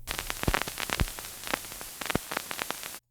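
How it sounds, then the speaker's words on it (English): Dense synthesizer noise: hiss with irregular crackles and pops, like worn vinyl over tape noise, continuing for a few seconds then stopping. "tape noise, vinyl crackling,"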